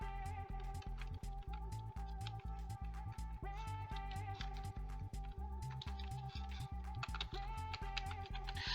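Fingers type steadily on a computer keyboard, a fast even stream of light key clicks that runs under a steady low hum and tonal background.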